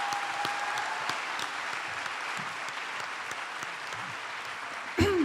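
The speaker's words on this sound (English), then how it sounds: "can we give them all a round of applause" An audience applauding candidates at a political forum, dense sustained clapping from a sizable crowd filling the room steadily, with a brief louder burst near the end.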